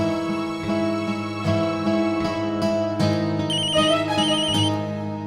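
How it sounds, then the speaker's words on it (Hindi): A mobile phone rings with a loud, melodic electronic ringtone playing continuously, close by and with no voices. "ये किसका फोन?"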